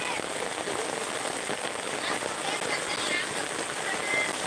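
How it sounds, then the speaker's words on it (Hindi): Heavy rain pouring down in a village, a dense, loud and steady hiss of drops hitting surfaces, close and unbroken throughout. "बारिश का आवाज सुन सकते हो"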